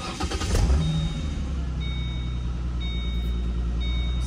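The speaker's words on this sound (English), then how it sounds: "So now we are going to try to start the car with the key that I programmed." A Ford Mustang engine cranks and catches, then settles into a steady, close idle that runs on continuously.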